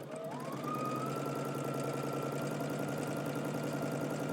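Sewing machine stitching a 5/8-inch seam on a pair of pants, a steady close mechanical whir that spins up and then runs continuously at an even speed.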